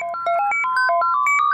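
A Mutable Instruments-style Rings resonator modular synth module in duophonic mode plays a quick run of bright, bell-like plucked tones, overlapping pairs of notes ringing and decaying in a steady rhythm, clear and up close with no talking.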